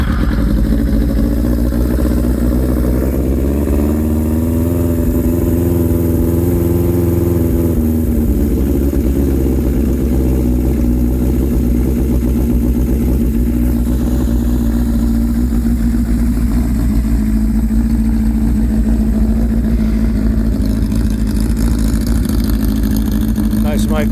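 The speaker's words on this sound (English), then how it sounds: "I love the sound of that exhaust, but it is a bit noisy." A Suzuki Katana motorcycle engine idles steadily with a throaty, fairly loud exhaust note that rises briefly around the middle, while someone talks nearby throughout.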